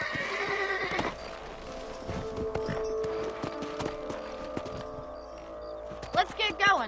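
Horses in the Red Dead Redemption video game whinny and clip-clop, with hoofbeats ticking along under background game ambience, a voice speaking over them, and a shrill neigh rising near the end.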